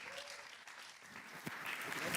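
Room full of people at a B2B SaaS sales and revenue leaders event clapping to welcome a speaker to the stage, a steady wash of applause with a voice speaking over part of it.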